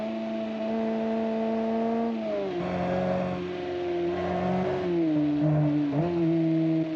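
The Kiev Motors 10 car's engine in the driving game BeamNG hums at steady revs, then its pitch dips and climbs as the throttle changes, loud and close throughout.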